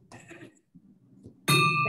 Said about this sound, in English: I forgot to ring the bell, so we'll pretend like I did that on time.